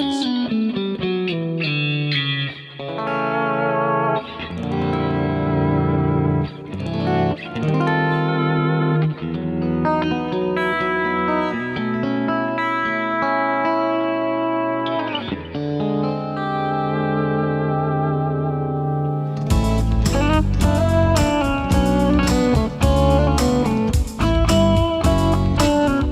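An electric guitar run through effects plays sustained, reverberant melodic lines with echo and chorus shimmer, loud and steady throughout, shifting into a brighter, distorted, denser passage near the end, with no talking.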